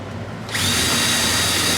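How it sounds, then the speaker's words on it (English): A power drill fitted with a V-bit countersinks holes in the underside of a portable Sega console; after a short quiet start it spins up abruptly into a loud, steady, high whine that runs to the end. "So I'm going to countersink these."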